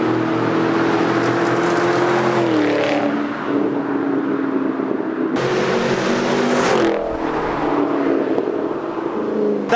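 A car crawls along slowly with a loud, steady engine drone. The rumble swells and fades twice as it moves, with no voices over it.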